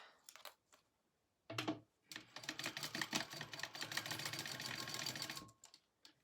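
A sewing machine top-stitching a handmade wallet runs in a steady, close, loud whir for several seconds after a couple of short starts, then stops.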